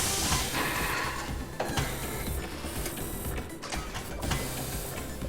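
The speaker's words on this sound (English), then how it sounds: "And then into a pill printer." A pill printer machine in the video game Big Pharma gives a dense, continuous mechanical whir and clatter with rapid ticking, loud and steady throughout with no voices.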